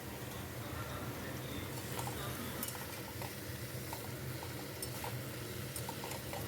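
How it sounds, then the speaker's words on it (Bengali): Drumstick curry with turmeric and salt being stirred in a pan, a steady close scraping and shuffling with faint light clinks of the utensil over a continuous low sizzle, no voice. "একটু ভালো করে নাড়াচাড়া করে নিলাম"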